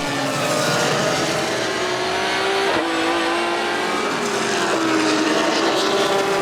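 3.2-litre BMW 3 Series race cars, a newer and an older model, battle at Zandvoort circuit, their engines roaring continuously with rising and falling pitch as they pass through corners, loud and sustained throughout.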